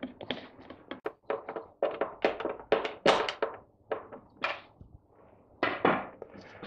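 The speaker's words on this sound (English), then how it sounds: "Tighten the seven screws back up." Screws are driven back into the motor cover of a Henry vacuum cleaner, making a close series of dry taps, clicks and thunks in uneven bursts with brief pauses between them.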